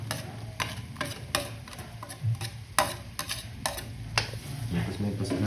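White onion sautéing in coconut oil for a garlic tilapia dish, with a spatula stirring and scraping in a steady uneven rhythm over a low, soft sizzle, close by.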